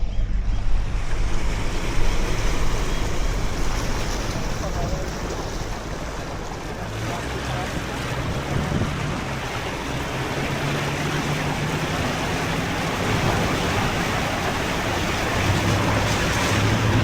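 A steady, continuous rush of creek water flowing fills the whole stretch, with some wind buffeting the microphone and no voices.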